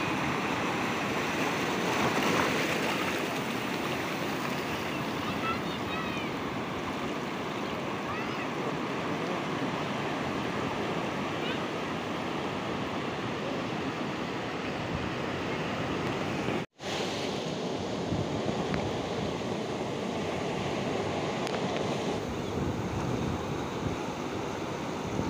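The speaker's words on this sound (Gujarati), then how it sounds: "દરિયામાં પાણીની આવક શરૂ થઈ ગઈ છે અને દરિયો ભરાવા આવી ગયો છે" Sea surf at the Gopnath coast with the tide rolling in near the Gopnath Mahadev temple, a steady broadband wash of waves mixed with wind buffeting, continuous and fairly loud, briefly cut out for a split second.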